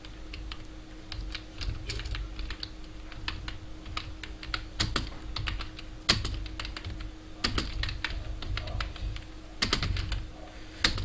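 Rapid typing on a computer keyboard, clattering continuously with irregular key clicks and occasional louder strikes, close and clear with no talking.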